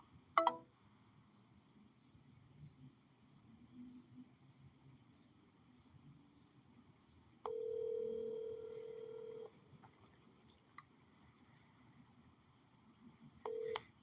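Telephone keypad tones while a voicemail password is entered on an automated message system: a short tone at the start, a long steady tone lasting about two seconds midway, and another brief tone at the end, over a quiet line.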